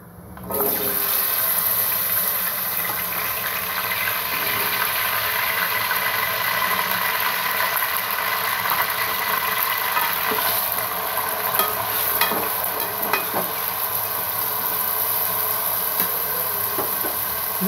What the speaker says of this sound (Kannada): ನೋಡಿ, ಎಣ್ಣೆ ಕಾದಿದೆ. ಇವಾಗ ಆಲೂಗಡ್ಡೆ ಸೇರಿಸ್ತೀನಿ.